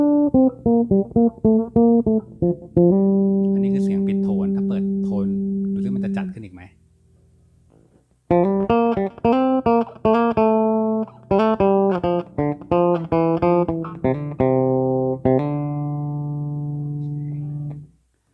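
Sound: 5-string bass solo with Rotosound Swing Bass 66 strings

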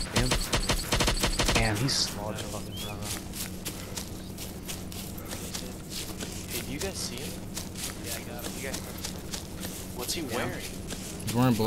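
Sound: gunfire from enemy soldier in Arma 2 Unsung mod video game

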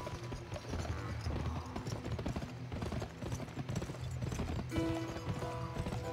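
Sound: horse hooves clip-clopping while riding, from video game Gun

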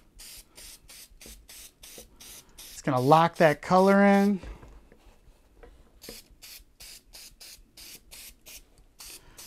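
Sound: aerosol spray can spraying

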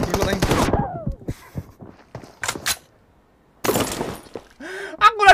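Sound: gunfire in a shooter video game

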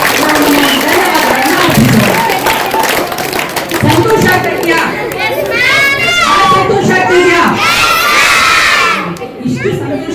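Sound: schoolchildren applauding and cheering

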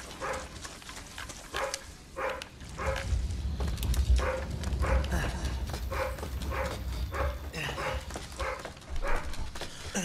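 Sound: dog Undertaker barking in the video game Resident Evil 7

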